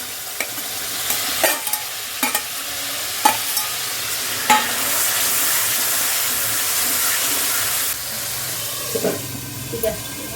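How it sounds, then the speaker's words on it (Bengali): Masala with potatoes frying in a pan for a katla fish curry, loud close sizzling and hissing steam punctuated by several sharp spatula knocks and scrapes against the pan. "আলুগুলো দিয়ে আরও কষাবে"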